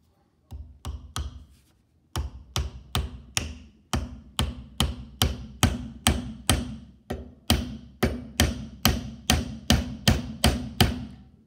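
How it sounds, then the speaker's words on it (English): Steady, rhythmic hammering drives nails into a wooden rebate butt joint clamped in a vise: a few opening taps, a brief pause, then a long run of loud, evenly spaced close strikes, each with a crisp attack and short decay. "Now, hammer in most of the way, then you can check to see if things are sitting in the correct spot."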